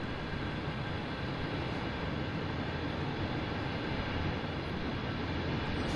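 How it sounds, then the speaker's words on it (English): A CSX freight train rolls past on the Boston–Worcester route near Framingham in Train Sim World 5, a steady, loud broadband rumble of wheels and cars that continues without letup. "And there comes a train right there."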